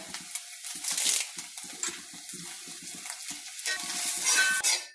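Curry leaves hitting hot oil in a pan for a pumpkin curry tempering, a bright crackling sizzle that rises sharply, with spoon scrapes and stirring throughout and a louder burst of spitting toward the end.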